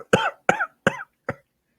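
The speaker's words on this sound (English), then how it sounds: "One cough at a time" Four sharp, separate coughs from one person in a podcast studio, spaced evenly and close to the microphone, with each burst a little shorter than the one before and silence after.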